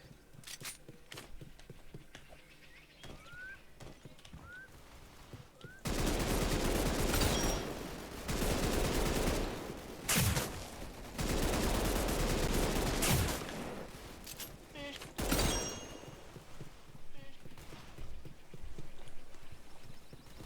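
Gunfire from a video game with strange weapons, including a shotgun: scattered faint shots at first, then loud bursts of dense rapid fire erupting in several long volleys, close and harsh.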